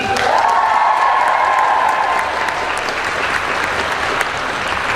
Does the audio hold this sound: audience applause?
yes